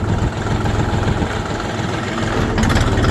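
A KM 385 tractor engine runs in second gear with a steady, close low diesel throb and rattling vibration throughout.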